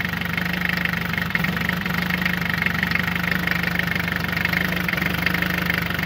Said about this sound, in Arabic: الموتير يرجف فيها مرات هكذا